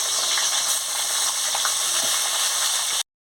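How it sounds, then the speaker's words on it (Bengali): Magur catfish sizzles in hot oil in a kadai on a lit stove: a loud, steady, crackling hiss with small pops, continuous for about three seconds before it cuts off abruptly. "তেল গরম হয়ে গেছে, আমি মাছটা দিয়ে দিচ্ছি।"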